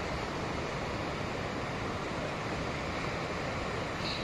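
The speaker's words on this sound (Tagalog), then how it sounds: "Lalakas din ang alon dito." Steady broadband wash of surf on a white sand beach at Patar, low tide, a continuous roar with no distinct breaks and some wind noise, no voices.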